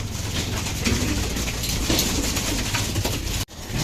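Racing pigeons in their loft coo repeatedly in soft, overlapping low murmurs, close and continuous against a steady background hum.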